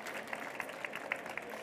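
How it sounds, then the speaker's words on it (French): Applause from a school audience at a departmental final of a children's reading contest, greeting a finalist from a Paris school; a soft, steady patter of clapping with a few sharper claps standing out, fairly distant and low in level. "On peut l'applaudir de l'école Fourcroy dans le 17e arrondissement."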